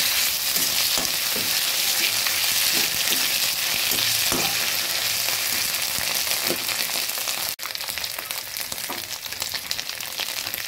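Ginger and garlic paste fry in a pan, a dense continuous sizzle with faint stirring scrapes throughout, close and loud, no voices.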